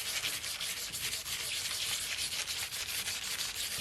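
A stiff, short-bristled brush scrubs over transfer foil in quick, continuous strokes, making a close, fairly quiet, hissy rasp with no pauses or voices.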